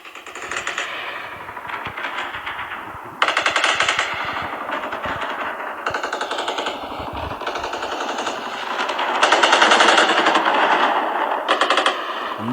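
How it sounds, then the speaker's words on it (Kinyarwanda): Sustained machine gun fire during military training drills, long rapid rattling bursts with brief gaps between them, loud and close, with no voices heard. "Sinzi imbunda abantu bagiye mu gisirikare bajya batubwira, sinzi imbunda barimo barakoresha ngo nizihe"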